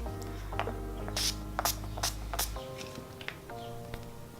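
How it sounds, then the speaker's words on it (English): Several short hissing bursts of makeup setting spray misted onto a face, quick close puffs in a rough rhythm over a faint background hum. "I'm just going to use the setting spray now"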